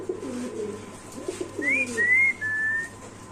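Pigeons at a pigeon farm: a low, soft cooing murmur gives way to three clear, drawn-out whistling calls in quick succession, fairly close and with no talk over them.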